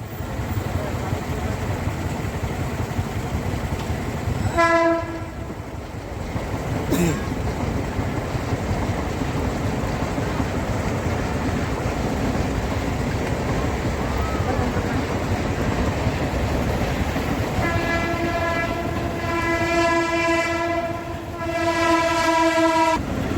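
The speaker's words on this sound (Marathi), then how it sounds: "डबल क्रॉस होत आहे गाडी गाडी डबल क्रॉस होत आहे" Two trains crossing each other on a double track near Neral, with a continuous rumble of rolling wagons, a horn blasting around the five-second mark and again loudly near the end.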